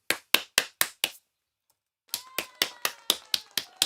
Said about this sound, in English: That clapping is for you.